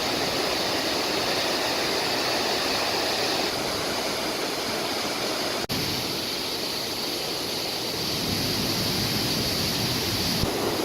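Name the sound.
small waterfall on a creek trail in Oregon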